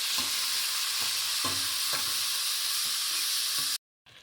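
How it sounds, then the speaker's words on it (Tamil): Tomatoes sautéing in a hot pan give a constant close sizzle with soft periodic stirring scrapes about every half second. The sound cuts off abruptly near the end, with no voices. "தக்காளி போட்டுக்கலாம் தக்காளியும் வதக்கிக்கலாம்"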